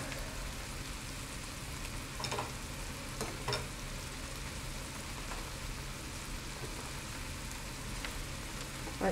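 Garlic fries in a pan for a bacon corn cheese dish, making a steady low sizzle with occasional stirring clicks and scrapes throughout. There is no talking.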